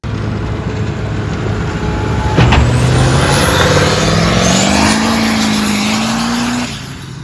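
A RipSaw tracked vehicle's engine runs loud and close, a sustained heavy roar with a sharp hissing burst early on, then a rising whine as revs climb before it settles and fades at the end.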